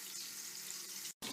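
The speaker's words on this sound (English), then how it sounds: "I placed my veal right into my pot. See how it's sizzling? You can hear it." Veal pieces sizzling as they go into a stew pot, a steady bright hiss that fills the moment evenly before a brief dropout and then resumes.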